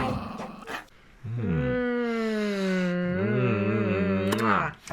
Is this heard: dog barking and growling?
yes